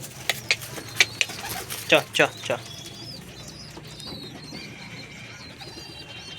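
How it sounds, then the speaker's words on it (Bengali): Pigeons for sale coo softly in a loft, with a few thin chirps, while a man makes a quick run of sharp clicking calls at them near the start. "এই যে এইখানে যা পায়রা আছে"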